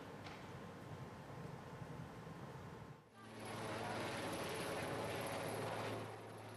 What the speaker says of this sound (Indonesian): penyiraman dengan helikopter mulai dilakukan untuk memadamkan kebakaran besar